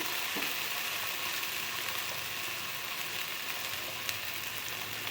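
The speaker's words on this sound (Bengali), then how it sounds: "সেই মশলাটা দিয়ে এবার কিন্তু সুন্দর করে একটু ভেজে নেব" A paste of ground ginger and cumin frying in a pan for a fish curry, a soft continuous sizzle with occasional faint stirring, no voices.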